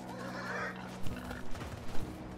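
A boar in the video game Nier: Automata snorts and grunts in a few short bursts after a steady droning game tone, fairly close and moderately loud.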